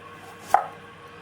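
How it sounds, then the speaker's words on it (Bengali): A single sharp pounding thud of a pestle crushing chopped ginger and garlic in a mortar, close and brief, set in a quiet kitchen with no voices. "এই আদা রসুন এগুলো আমি হামাল দিস্তায় থেতো করে নেব।"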